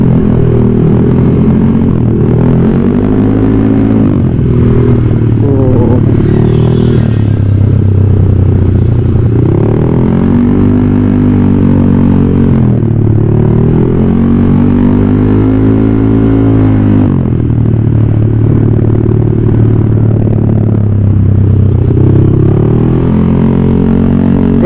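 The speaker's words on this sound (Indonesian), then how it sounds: "Kalau di speaker kedengeran gak suara knalpot ya?" Exhaust of a tuned 218 cc motorcycle built for daily touring and speed runs, revving up and down in repeated swells over a steady loud idle rumble, close and continuous with no talk.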